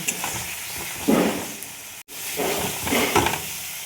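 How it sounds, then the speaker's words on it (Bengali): Ground cumin, turmeric, coriander and other spices sauté in a pan, giving a close sizzle with stirring scrapes, briefly cut off midway and then resuming. "এবার এই মশলাগুলো একসাথে কষিয়ে নেব"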